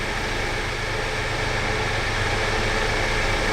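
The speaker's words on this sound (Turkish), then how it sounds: "dışarıdan bayağı ses geliyormuş ya otobüsün" A steady, low rumble of an idling bus engine in Euro Truck Simulator drones on evenly throughout, with no voices.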